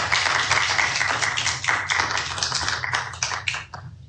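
An audience at a court hearing in a case against the City of Ferguson bursts into sustained applause, dense, loud clapping filling the room before tapering off near the end.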